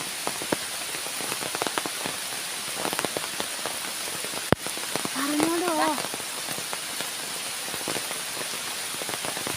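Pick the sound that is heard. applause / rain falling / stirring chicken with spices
rain falling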